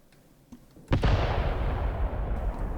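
In the Graviteam Tactics war game, an enemy artillery shell lands with one loud explosive boom, then a long rumbling roar of debris and echo that fades slowly.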